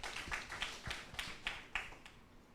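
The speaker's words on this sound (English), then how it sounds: "Round of applause, A round of applause," Sparse, faint claps from a small open-mic poetry audience, about six distinct sharp claps spaced roughly evenly, then fading to quiet.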